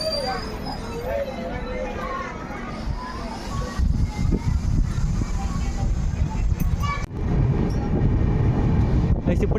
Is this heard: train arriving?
yes